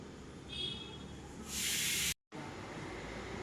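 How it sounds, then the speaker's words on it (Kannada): Finely chopped coriander frying in a pan for kallepuri usli, a steady broadband hiss that swells loud around the middle of the short stretch, then cuts out briefly before the sizzle resumes at a lower level. "ಈಗ ಕೊತ್ತಂಬರಿ ಸಣ್ಣಕ್ಕೆ ಹಚ್ಚಿಟ್ಟಿದ್ದೆ, ಅದನ್ನು ಫ್ರೈ ಮಾಡ್ಕೋತಾ ಇದ್ದೀನಿ ನಾನು"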